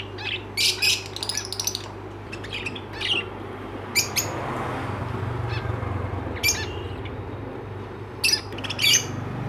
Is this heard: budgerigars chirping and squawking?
yes